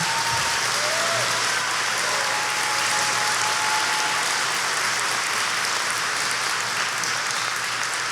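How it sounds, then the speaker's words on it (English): An audience at a live event applauds its performers in one continuous, even wash of clapping that holds steady and full throughout, with no voices standing out. "Can we hear another round of applause for our wonderful performers?"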